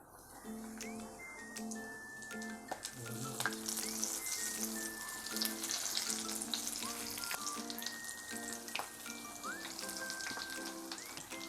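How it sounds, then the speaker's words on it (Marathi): Prawn lollipops sizzle and crackle steadily in hot oil on a gas flame, a continuous close frying hiss with scattered pops and light ticks, plus faint background tones and no talk. "तेल आपलं गरम झालं आहे आता त्याच्यामध्ये कुलबीचे लॉलीपॉप सोडून घेते"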